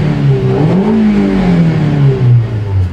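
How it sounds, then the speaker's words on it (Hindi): A Hyundai Grand i10 engine with about 18000 km is revved up and eased off in a steady, close, continuous whir with rising and falling pitch, with no other sound. "थोड़ा सा रेव करेंगे।"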